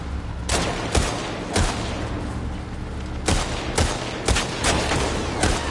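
Gunfire in The Last of Us Part II, several sharp shots in irregular bursts over a steady noisy game background, loud and close.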